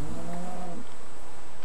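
A loud cat yowl from a video game sound effect, a single drawn-out tonal cry lasting under a second, followed by a noisy hiss-like background with no talking.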